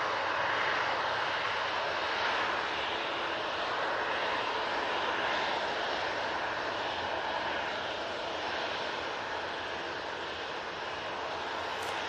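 An Airbus A320neo airliner bound for Lisbon takes off from Manchester Airport, its engines giving a loud, sustained broadband roar that holds steady throughout.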